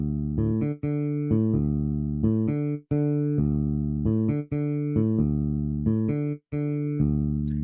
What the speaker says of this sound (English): So let's go ahead and mute these drums and we'll play this bass line.